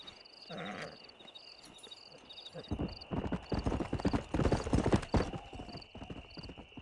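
A stallion's hooves clip-clop in Red Dead Redemption, a steady run of close, crisp hoof strikes that grows louder and busier, with a brief whinny near the start and a faint high insect chirp throughout.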